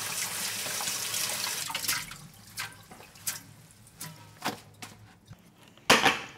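Perilla leaves being washed in water, with splashing and rinsing that fades into a series of separate sloshes and drips and ends in one louder splash, heard close with no talking.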